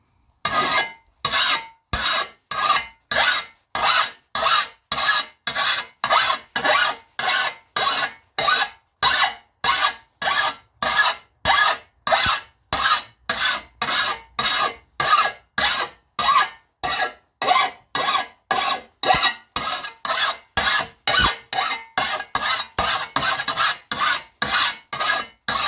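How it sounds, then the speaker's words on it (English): A hand file sharpens the edge of a flat shovel blade in steady back-and-forth strokes, a regular rasping rhythm of about two strokes per second that continues at an even, close volume with no talking. "So we're going to go ahead and start filing down this flat shovel."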